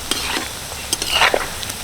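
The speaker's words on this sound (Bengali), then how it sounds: "এইভাবে উল্টে পাল্টে ভালো করে ভেজে নেব" Oil sizzles steadily while a utensil scrapes and stirs through deep-frying snacks in a few brief clattering strokes, with no voices.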